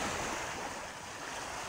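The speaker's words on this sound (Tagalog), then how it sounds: "Kakaskas na lang ng alon ng ating napapakinggan mga katambay." Rough surf churns during Typhoon Opong, a dense unbroken roar of waves and gusting wind close to the microphone, loud and steady with no speech.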